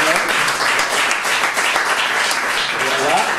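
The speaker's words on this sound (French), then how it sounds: "On applaudit Julie qui a gagné le nectar divin." Steady applause for a prize winner at a triathlon club awards ceremony, dense clapping from a gathered audience throughout with voices mixed in.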